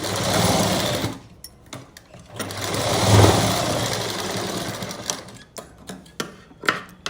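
A sewing machine runs up close as it stitches a tassel, or latkan, onto a blouse. A long steady whir comes first, then shorter stop-start bursts and clicks as the fabric is repositioned for cross stitching.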